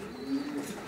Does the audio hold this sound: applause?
no